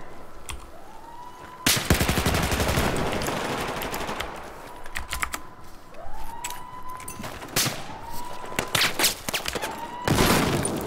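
Gunfire in Battlefield Hardline: rapid automatic bursts and single shots crack close by in several clusters, with a rising siren-like tone sweeping in and out between them.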